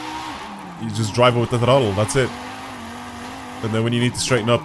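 A car slides sideways through corners in the video game Forza Horizon 5, its engine revving in wavering bursts with tire noise, while someone talks over it.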